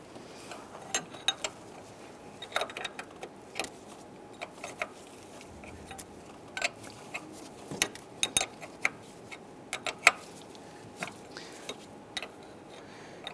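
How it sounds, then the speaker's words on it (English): A wrench tightens the high-pressure power steering line nut on a 2005-2010 Chrysler 300. Sparse, irregular sharp metallic clicks sound close by over a faint, quiet background. "we'll follow up by tightening it down with a wrench"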